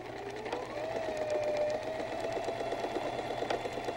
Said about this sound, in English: We're going to sew a 1/2 inch seam allowance. Don't forget your back stitch.